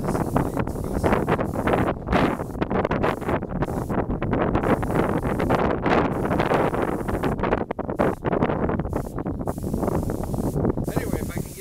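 Cold, gusty wind buffets an outdoor microphone in dense, continuous rumbling blasts that rise and fall without pause and fill the whole stretch, loud and close.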